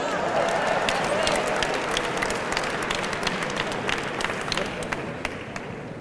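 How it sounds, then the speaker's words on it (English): Nervous, fairly soft applause from an alumni assembly audience, a steady patter of many hands clapping with light crowd murmur, sustained throughout before thinning slightly at the end. "That was nervous applause."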